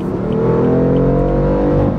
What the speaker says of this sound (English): that engine does sound very nice. That is a sweet motor, this 3 liter turbocharged